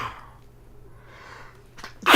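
A single sneeze bursts out sharply at the very end, after a stretch of quiet room noise with faint background murmur, close and loud.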